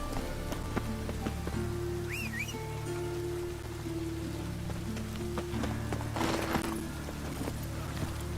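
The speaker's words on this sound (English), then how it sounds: "Rain, I like rain." Rain falling in The Witcher 3, a steady hiss of rain under soft background tones and a brief higher chirp, with a short louder burst of rain noise near the end.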